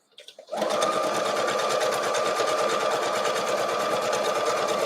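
A sewing machine stitches a quilt block for an Imperial T block, starting after a brief rustle and then running steadily at a fast, even hum with needle rattle. It is close and loud, with no talk.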